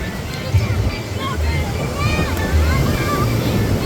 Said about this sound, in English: Waves are coming crashing in fast though.